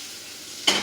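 Food frying in a pan at home on an electric stove is stirred, with a short burst of sizzle and scraping that swells suddenly near the end after a faint, quiet lead-in.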